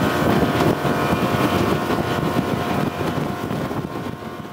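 Bennington QX28 pontoon boat driven by a Yamaha 425 XTO outboard at full throttle on a lake, a steady loud engine roar mixed with rushing water and heavy wind buffeting on the microphone throughout.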